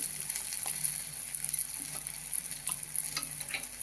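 Masala sautéing in a pan for a Marathi-style leafy greens dish gives a steady, close hiss of frying with faint scraping stirs and small taps throughout.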